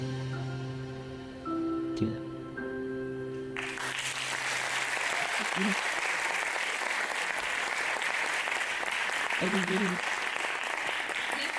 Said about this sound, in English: one round of applause to these incredible ambassadors of coexistence